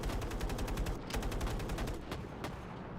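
Rapid bursts of gunfire, likely from an online shooter game involving a tank, rattle on continuously, with a few sharper single shots standing out near the end.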